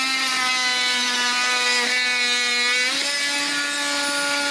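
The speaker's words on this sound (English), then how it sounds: "What we're using is an oscillating saw." An oscillating saw cuts through sewer pipe with a loud, continuous, buzzing whine that holds a steady pitch, shifting slightly as the blade bites.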